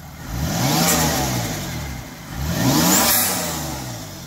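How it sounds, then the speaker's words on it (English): A turbocharged right-hand-drive car engine with an HKS SSQV blow-off valve revs twice in the engine bay, each loud rise falling away again, with a faint hiss near the top of the second rev. "Gotta hear that HKS SSQV"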